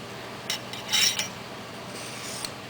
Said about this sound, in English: as I stroke down, I just stroke backwards